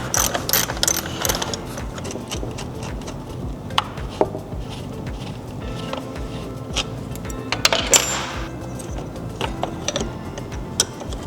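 Ratchet clicking while loosening bolts on the turbo inlet of a 2008–14 Subaru WRX, rapid bursts of pawl ticks in several runs with short pauses, close and fairly loud, with no talking.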